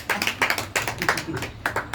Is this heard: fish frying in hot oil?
no